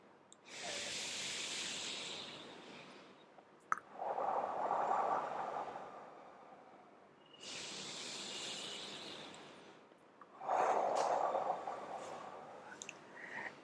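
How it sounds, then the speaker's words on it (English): Slow, controlled breathing: two cycles of airy hissing inhales through the nose, each followed by a longer, breathier exhale through the mouth, close and steady with brief pauses between. "you will start inhaling from your nostril and exhaling from your mouth"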